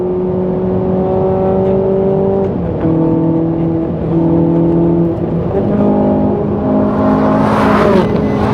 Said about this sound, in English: Very smooth drive, handles the curves well.